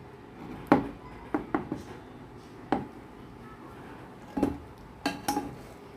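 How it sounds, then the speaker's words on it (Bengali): Syrupy little baby sweets are tipped from one pan into another pot, giving sparse, quiet metallic clinks and scrapes of cookware spaced through the pour. "এখন আমি অন্য পাত্রে এটা ঢেলে নিচ্ছি"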